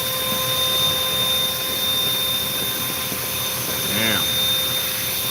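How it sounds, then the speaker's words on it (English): Vacuum used for bee pest removal runs continuously with a loud steady roaring whine, a constant hum throughout and a brief voice heard once. "By sucking them into this vacuum, it's going to kill them, for one thing."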